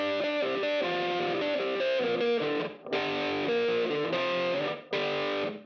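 Distorted electric guitar plays a chugging riff through a boost pedal, loud and sustained, in phrases broken by brief pauses, with no voices.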